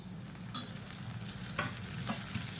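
Turkey berries and green chillies sauté in hot oil, giving a steady, close sizzle with a low hum beneath and a few brief stirring scrapes, with no voices.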